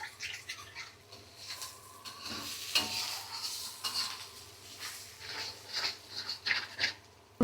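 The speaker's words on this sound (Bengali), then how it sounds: "ডিমের ভিতরে সামান্য লবণ দিয়ে দিব ডিমটাকে এভাবে ঘুটে দিব যাতে ডিমটা গুড়ি গুড়ি হয়ে যায়" Egg seasoned with a little salt is stirred and scrambled in a hot wok, producing repeated scraping strokes of a utensil over a soft background sizzle.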